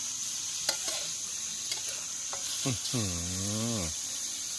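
Shrimp sizzle steadily in a hot pan of oil, a close continuous frying hiss with a few clinks of a utensil and a brief voice murmuring near the end.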